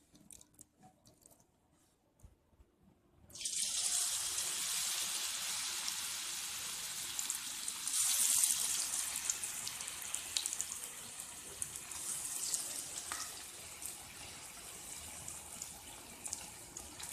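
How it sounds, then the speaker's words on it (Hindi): Aloo pakoras frying in oil in a kadhai, a steady close sizzle and crackle that starts suddenly after a quiet moment and then continues evenly with small pops. "अब हम इसे कढ़ाई में तलेंगे।"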